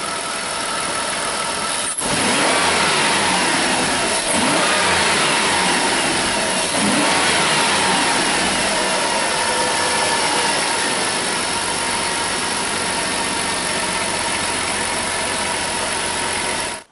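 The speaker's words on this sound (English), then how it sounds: "I'm going to go ahead and rev it up and show you what happens." A car engine runs during a head gasket test. It gives a loud, steady mechanical roar that rises slightly as it is revved after about two seconds, then holds high and constant, with no one talking.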